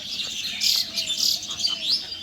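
Farm ducks feeding on natural feed, giving off a steady run of high, chirpy peeping calls close by that rise in short bursts and repeat throughout, with no talking.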